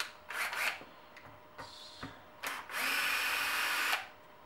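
A Makita drill drives screws into an RC car chassis guard on an HPI Savage XS Flux, with short close bursts of whirring followed by one longer steady run, no talking.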